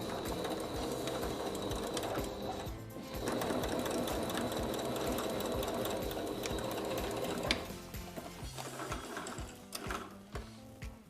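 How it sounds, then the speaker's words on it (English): Sewing machine stitching elastic vertically through a skirt side seam, a dense rapid mechanical whir running steadily and close, pausing briefly near the end and then starting again, with no talking. "I'm going to go ahead and secure my elastic in place by sewing vertically through the side seam."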